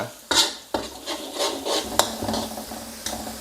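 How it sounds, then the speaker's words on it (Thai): Two tablespoons of minced garlic frying in hot oil in a pan for a Thai chicken stir-fry, a steady crackling sizzle broken by several sharp scraping and stirring strokes, close and fairly loud, with no voices. "พอน้ำมันร้อนแล้วใส่กระเทียมสับลงไป 2 ช้อนโต๊ะครับ เจียวกระเทียมให้หอมก่อนนะครับ"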